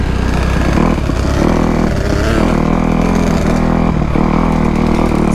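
A Kawasaki KX250F dirt bike engine running on a wet trail, with a loud, close, steady four-stroke drone and slight shifts in throttle.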